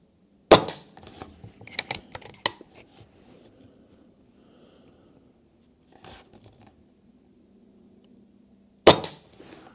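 Sharp, close cracks from a BSA R12 CLX Pro PCP air rifle firing on a 30-metre range: a shot near the start, a few lighter clicks and handling noises, another at six seconds, and a final crisp shot near the end amid quiet.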